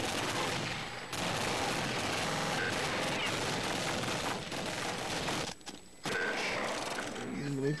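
Rapid automatic gunfire in Counter-Strike, a loud, dense rattle of shots running almost continuously, broken by brief pauses near one second and around five and a half to six seconds, with a voice faintly mixed in.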